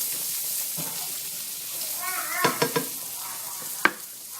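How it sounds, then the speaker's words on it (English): Low, steady sizzling of onions and garlic frying in a pan, with a few brief clinks and stirring scrapes near the end. "I'm going to let these cook a little bit until they're nice and tender. You have a nice sizzle."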